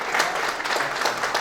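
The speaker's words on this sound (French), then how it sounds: "On peut l'applaudir." Applause from a panel audience at an innovation and technology-transfer event, a short steady patter of clapping at moderate level with no voices over it.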